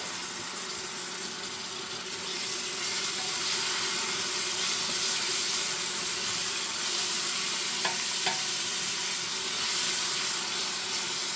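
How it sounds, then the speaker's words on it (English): Chopped celery cooks for gnocchi soup in a pot with garlic, giving a steady, fairly loud broadband sizzle and frying hiss that lasts throughout, with a few faint clinks near the end. "I'm going to add the celery."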